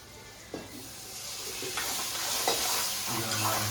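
Water poured into a pan of hot frying masala for a spine gourd curry, bringing a sustained sizzle and hiss with a few stirring clinks and scrapes, close up.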